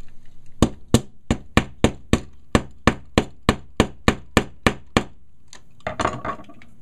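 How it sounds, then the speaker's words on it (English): A part is hammered into a Maverick with about fourteen sharp, evenly spaced metallic taps, close and clear, followed by a short rattling clatter once the pounding stops. "I think I'll just hammer it in."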